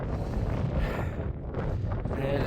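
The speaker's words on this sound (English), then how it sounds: "Wind, go away." Strong wind buffets the microphone on Grey Friars in the Lake District, a loud continuous roar with gusty surges.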